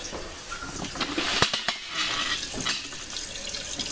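Water rushes and splashes as a toilet tank refills after the supply is turned on during a new toilet installation, a continuous hiss broken by a couple of sharp clicks and gurgles midway.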